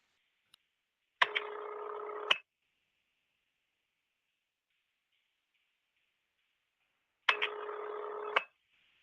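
Telephone signalling tones, two buzzy tone bursts of about a second each, separated by several seconds of near silence with a faint hum and a few clicks. They are quiet and heard alone.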